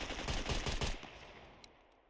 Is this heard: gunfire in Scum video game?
yes